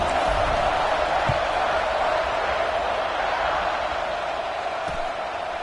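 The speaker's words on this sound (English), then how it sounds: "this crowd is buzzing after that last score" A stadium crowd in a football video game keeps up a steady, loud, continuous buzz that does not let up, with no talk over it.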